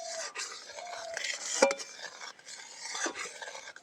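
Sago thickening in a pot over medium heat is stirred continuously, producing close scraping and rubbing of a utensil against the pot with an occasional light clink, fairly quiet and without talk.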